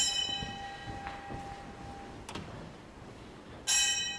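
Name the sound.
bell rung at Zen temple to wake young priests for meditation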